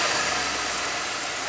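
A 1997 Dodge van engine idles close by with a steady, even hum and no break in the sound.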